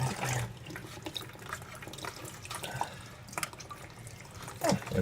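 Water drains from a disconnected toilet fill valve into a bucket during a running-toilet valve replacement, heard as a broad wet trickle and splashing with scattered drips and small clatters up close.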